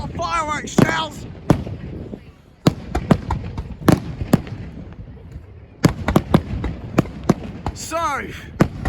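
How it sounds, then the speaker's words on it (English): Fireworks shells burst at Swanage Carnival, a series of sharp, loud bangs in irregular rhythm with whistling rising shells at the start and end, while excited spectators cheer and shout around them. "fireworks shells."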